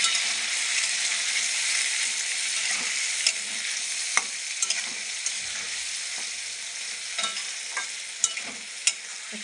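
Paneer curry spices sautéing in a pan after a splash of water, a dense, bright sizzle that fades slightly as occasional sharp taps and scrapes of stirring punctuate it, close and alone.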